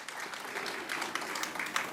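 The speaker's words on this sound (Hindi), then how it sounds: "जोरदार तालियां हमारी आज की निर्देशिका के लिए" A theater audience at a play claps steadily, fairly quiet and distant, with a few louder claps.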